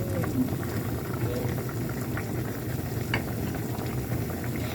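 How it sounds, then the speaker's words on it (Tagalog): Meat for adobo fries in cooking oil before the other ingredients go in, giving a dense, even crackle and bubbling close by that runs without a break. "so priniprito ko muna bago ko ginigisa ko muna sa mantika"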